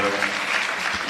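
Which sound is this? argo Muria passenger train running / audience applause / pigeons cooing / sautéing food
audience applause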